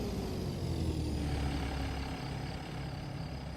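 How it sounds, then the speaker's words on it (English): A Peterbilt 389-style truck engine idles in American Truck Simulator with a low rumbling drone and a faint rising whine, continuous and fairly quiet throughout. "Yeah, I like the way this truck sounds."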